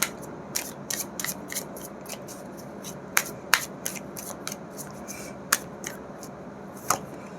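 Tarot cards are shuffled and drawn by hand, giving sharp, scattered papery flicks and snaps at irregular intervals over quiet room tone.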